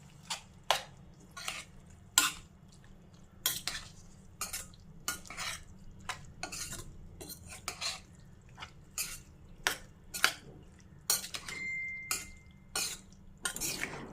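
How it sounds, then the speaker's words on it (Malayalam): Cooked paneer pieces stirred into a masala gravy in a pan, with repeated sharp scrapes and clinks of a spoon against the pan at an irregular rhythm, close and clear over a low background hum. "ഈ സമയത്ത് നമുക്ക് ഇവിടെ കുക്ക് ചെയ്ത് വെച്ചിരുന്ന പനീറിൻ്റെ പീസസ് ഇട്ട് കൊടുക്കാം. ഒന്ന് ഇളക്കി കൊടുത്തേക്കാം."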